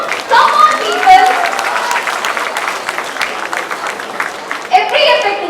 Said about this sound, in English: can we all give a huge round of applause for everyone who made this successful?